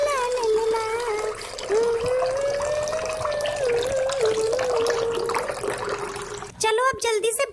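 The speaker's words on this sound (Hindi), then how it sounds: "हैंड पंप से पानी भरने लगती है।" Water gushes steadily from a village hand pump, a continuous rushing noise heard beneath a woman singing a wordless tune throughout.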